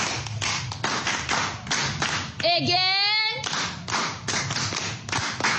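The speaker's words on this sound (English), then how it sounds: "Please clap for him." Children clapping in a group, steady rhythmic bursts of hand claps that pause briefly while a voice speaks, then resume.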